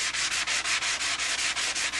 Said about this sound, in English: So I'm purposely going right up to the edge but not sanding out onto it.